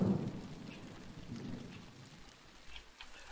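Steady rain falling in the block-based game MineClone2, a soft continuous hiss with faint low rumbles, no voices.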